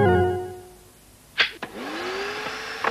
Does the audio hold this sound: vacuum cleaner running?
yes